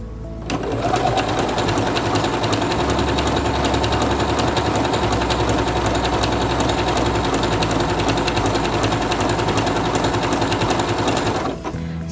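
SINGER Quantum Stylist 9960 computerized portable sewing machine stitching fabric, a fast steady mechanical whir and needle clatter running continuously for about ten seconds, close and clear, then stopping.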